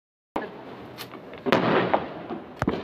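Diwali firecrackers go off in a series of sharp bangs and crackling bursts, with a loud pop near the start, a dense crackle in the middle and several closely spaced reports toward the end.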